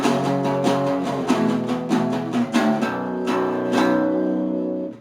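An electric guitar plays a riff alone, a run of picked notes and chords ending on a ringing held chord that fades out.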